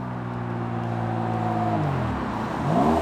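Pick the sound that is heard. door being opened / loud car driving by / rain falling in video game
loud car driving by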